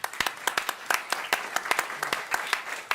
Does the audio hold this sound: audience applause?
yes